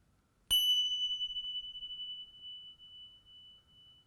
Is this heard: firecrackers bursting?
no